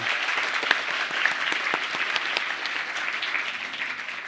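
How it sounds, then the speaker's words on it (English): Warm audience applause at a live love-story storytelling session with music, dense, even clapping sustained for several seconds at moderate volume with a few sharper claps standing out. "yes, applause for them."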